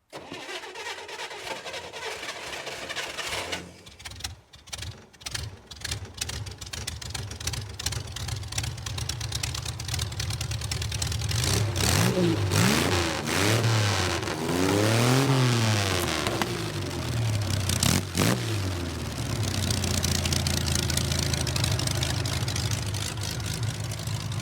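A King Cooper sandrail engine cranks and catches, then settles into a loud, rough idle broken by several rising and falling revs, close and continuous with no talk.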